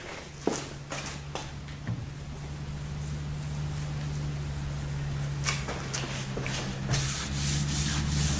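A hand rubbing across contaminated car paint on the quarter panel of a 2010 Camaro SS, a continuous gritty scraping with a few louder strokes, close up and heard alone over a low background hum.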